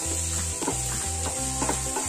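Moong dal chilla mixture being stirred in a pan over a high gas flame, with a spoon scraping in bursts over a steady sizzle and a low hum, close and fairly loud, no talking.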